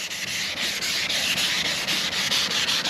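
A small 3M Hookit hand sanding block rubs steadily back and forth over a surface during outboard motor refinishing, giving a close, continuous raspy scrape with regular stroke pulses and no talking.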